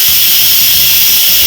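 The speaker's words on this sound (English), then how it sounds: "We're gonna let that vent. It might take a little while because there's a lot of steam and liquid in there." An Instant Pot releases steam through its vent with a loud, continuous hiss and rush of air, steady throughout with no talk.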